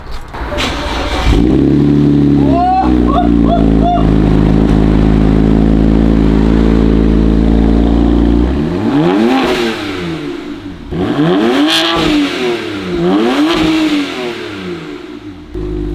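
On a cold engine, a BMW 335i with an Akrapovič exhaust idles loudly, then blips into several sharp revs that rise and fall close by, with no one speaking.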